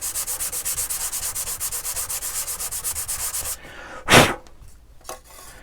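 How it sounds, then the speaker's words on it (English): Sandpaper, 220 grit, rubbing back and forth over thin wooden model rocket fins held in templates, a steady rapid rhythmic rasping for several seconds, then a pause and a couple of louder scuffs. "I'm going to take some 220 sandpaper here and just lightly sand those"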